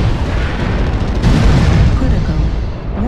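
Incoming missile explosions in a mech combat video game make a dense, loud rumbling roar that fills the whole stretch, with a heavier boom swelling near the middle and no pause between impacts.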